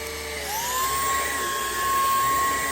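A Numatic Henry Quick cordless stick vacuum runs on boost with its floor tool, a loud steady motor whine rising in pitch and then holding at a high, even tone close by.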